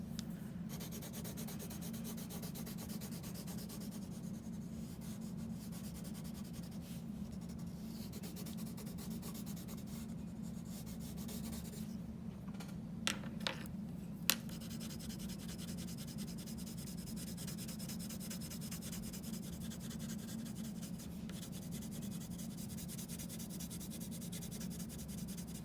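Prismacolor colored pencils shading a pumpkin drawing on paper make a faint, continuous scratchy scribbling that runs for a long stretch over a low steady hum, with a few small taps midway.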